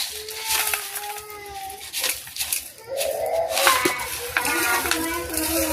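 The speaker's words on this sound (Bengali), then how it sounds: "একদম মেলে ভাঙানো খাঁটি সর্ষের তেল দিয়ে কিন্তু আমরা মুড়ি মাখাচ্ছি" Puffed rice (muri) being tossed by hand with pure mustard oil, chanachur and spices in a bowl, producing a continuous crisp rustling and scraping, with someone talking over parts of it.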